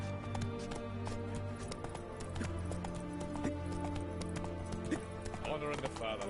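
Roach, the horse in The Witcher 3 video game, gallops with a steady clip-clop of hooves, blended into dense game music and ambience that continue throughout.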